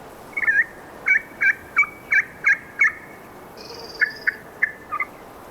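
A wild turkey gobbles inside a hunting video game, a string of sharp, evenly spaced warbling calls, about a dozen bursts with brief pauses between, clear and close with no talking.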